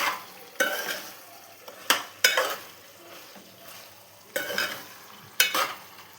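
Chicken curry with tomato cooking in a pan, a low bubbling simmer broken by several loud stirring scrapes of a spoon against the pan at irregular intervals.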